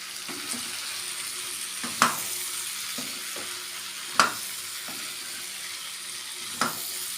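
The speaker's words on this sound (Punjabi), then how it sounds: "ਤੇ ਆਪਾਂ ਸਾਰੀ ਜਿਹੜੀ ਸਬਜ਼ੀ ਪਾ ਦਾਂਗੇ ਵਿੱਚ ਤੇ ਇਹਨੂੰ ਆਪਾਂ ਚੰਗੀ ਤਰ੍ਹਾਂ ਕਰ ਲਾਂਗੇ ਜੀ ਮਿਕਸ" Ripe pumpkin sabzi sizzles steadily in a pan while a spoon stirs it, with occasional sharper scrapes and clinks against the metal standing out over the constant frying hiss.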